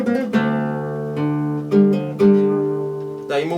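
An instrument plays a riff, sustained ringing notes with smooth slurred pitch changes in place of separate attacks, as a hammer-on and pull-off would give, close and clear with no talking.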